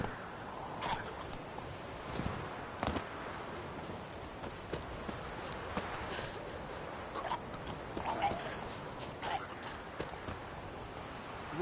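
Roach the horse galloping in a PS4 video game, soft rhythmic hoofbeats running steadily at moderate distance beneath ambient game sounds, with brief voices now and then.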